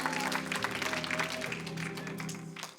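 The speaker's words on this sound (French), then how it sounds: "Allez, on applaudit bien fort" An audience at a church political rally claps for a few seconds, a dense, moderately loud patter of applause that slowly thins out toward the end.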